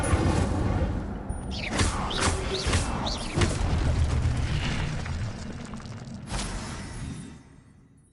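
Incendio fire spell cast in the wizarding game Hogwarts Legacy, with several whooshing, crackling flame bursts and a booming pop in quick succession, loud and close before fading out at the end.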